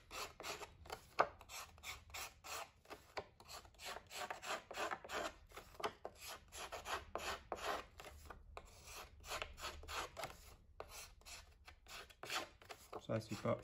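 A blade or small tool scrapes along paper edges for scrapbooking, making quick repeated rasping strokes that are close but quiet, with soft faint talk in the background.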